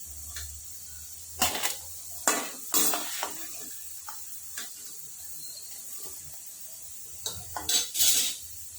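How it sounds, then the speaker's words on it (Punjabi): Fried arbi (taro root) lifted from hot oil onto a plate: scattered metal spoon scrapes and clinks against the pan and plate, in short bursts over a faint steady sizzle. "ਹੁਣ ਆਪਾਂ ਅਰਬੀ ਨੂੰ ਪਲੇਟ 'ਚ ਕੱਢ ਲਵਾਂਗੇ"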